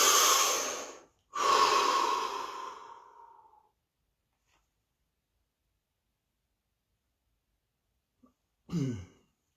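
A slow, deep breath during a guided practice session: a long airy inhale, then a fuller exhale fading out, followed by silence and a brief breathy sound at the end.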